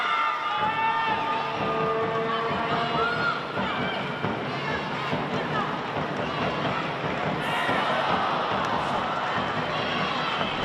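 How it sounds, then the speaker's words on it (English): A crowd at the 2024 NPL Women Grand Final football match between Lions and Brisbane City roars and cheers continuously, a dense, loud wash of voices from a stadium with a commentator speaking over it. "the crowd reaction tells you all you need to know about that one"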